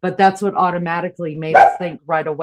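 A dog barks briefly in the background, a short burst partly masked by a person talking continuously throughout.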